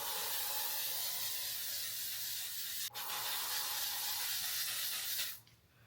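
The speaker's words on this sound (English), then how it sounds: "All the setting spray is having a moment today." A setting spray bottle hisses in a long, loud continuous spray that breaks briefly once and then cuts off near the end, followed by quiet room noise.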